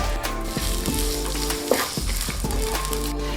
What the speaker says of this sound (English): now I'm going to add some cooked brown rice to this mixture